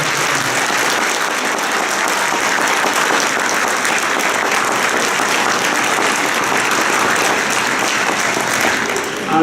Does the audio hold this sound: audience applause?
yes